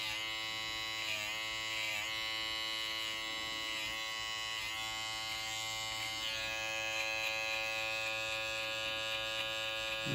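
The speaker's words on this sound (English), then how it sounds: "Tool I'm using right now is the Andis Slimline Pro D8 rotary motor." Andis Slimline Pro D8 rotary trimmer cutting hair behind the ear, giving a steady close high-pitched electric buzz with slight dips as the blade moves through the hair, continuous throughout.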